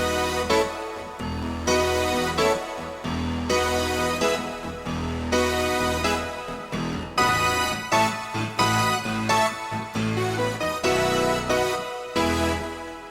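A big layered 80s-style synthesizer part plays loud and bright, stacked chords pulsing in a steady rhythm with punchy low notes underneath, no voices.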